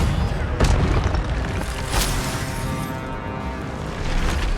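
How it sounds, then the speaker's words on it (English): An Incendio fire spell goes off in the Hogwarts Legacy video game, two sharp booming bursts a second or so apart over a steady rumbling game backdrop, with no voices. "Incendio!"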